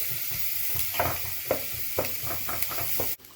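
Onions sizzle in a pot with a soft, steady hiss, and a spoon stirs them in several light scraping strokes at an irregular rhythm, close and quiet, then the sound cuts off abruptly.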